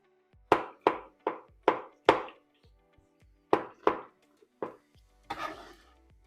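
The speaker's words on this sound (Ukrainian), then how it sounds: "Ось такі гриби. Зараз я один цей зразок ще поріжу." A knife chops mushrooms on a board in a home kitchen, about ten sharp, distinct thuds in an uneven rhythm with short pauses between them, close and clear, ending in a longer scraping cut.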